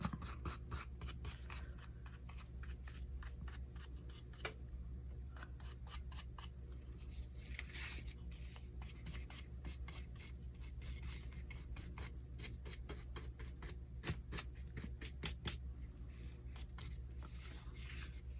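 Brown wax is rubbed onto the edges of scrap wood pieces in quick, repeated scratchy strokes, a faint, close rasping rhythm that continues steadily throughout.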